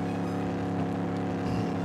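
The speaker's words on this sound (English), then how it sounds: "it's got two engine sounds that I can recognize" Bus engine in the Reckless Driver video game, a steady layered drone with a low rumble and harmonic whine that holds evenly throughout with no voices.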